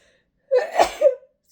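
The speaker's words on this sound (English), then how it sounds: "I have a sneeze coming." A single close human sneeze: a quick intake of breath, then a sharp burst and a trailing exhale, all within about a second before silence.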